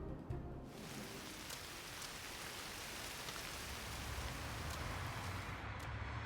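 Steady rain falls over a dam construction site, a dense, even hiss of drops that carries on without a break. It sounds moderately distant and fairly soft, with no voices.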